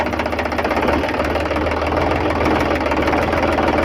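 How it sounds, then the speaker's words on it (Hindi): An Indo Farm 3035 tractor engine with a newly replaced single clutch, its clutch eased out in fourth gear: a steady, loud diesel chug with a rapid knocking pulse and vibration held throughout, close by, with no voices. "अभी हम क्लच को छोड़ेंगे धीरे धीरे, लेकिन ये फोर्थ गियर में है ट्रैक्टर।"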